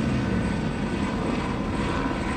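A drone's propellers give a steady broadband buzz above a street protest at an intersection in Austin, Texas. The whir is close and continuous, with no talk over it.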